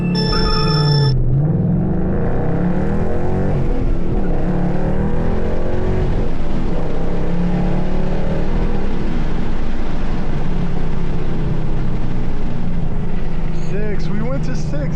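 A 2012 Ford Mustang GT launches hard in a 0–60 acceleration test, its engine roaring loudly and steadily and rising through the run, heard from inside the car.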